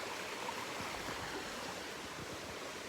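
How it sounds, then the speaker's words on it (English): A flowing creek runs with a soft, steady wash of water, even and unbroken, fairly faint and without talk. "not waterfall, creek."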